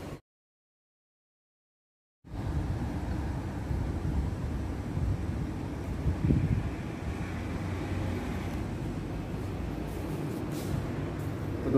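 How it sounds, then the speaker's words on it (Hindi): Strong wind of tropical storm Ma On, with Signal No. 8 raised, roars and buffets steadily against the microphone as a loud broadband rush after a short silent gap at the start, with no talking. "बहुत ही तेज हवा है"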